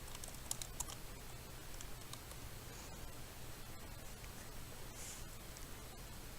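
Quiet tapping on a computer keyboard as a sheet name is typed, a scattered run of soft keystrokes over faint background hiss.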